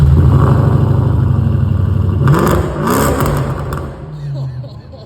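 A BMW 550i fitted with custom mufflers and an X-pipe exhaust revs loudly with a deep, rumbling note close by, rising and settling over several seconds.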